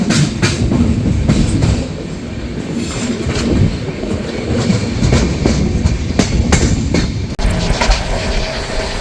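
A Darjeeling Mail passenger train in general class, heard from on board at dawn: a steady, loud rumble of running coaches with rhythmic clickety-clack of wheels over rail joints, continuous throughout.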